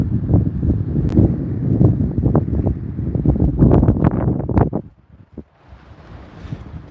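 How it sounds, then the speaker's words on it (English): Strong wind roars and buffets the microphone with deep, gusty rumbling, then drops away to a quieter hiss. "Oh, the wind's too loud."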